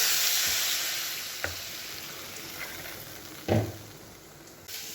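Water goes into a hot wok holding ridge gourd peels, releasing a strong hiss that slowly fades into a softer sizzle, with a few clinks and stirring knocks.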